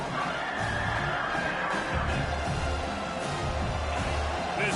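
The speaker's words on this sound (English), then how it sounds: "This crowd rising up, sensing that its defense needs some help." A stadium crowd in a Madden football video game roars in a dense, continuous wash of cheering that swells slightly, steady and fairly loud, with faint commentary-like voices underneath.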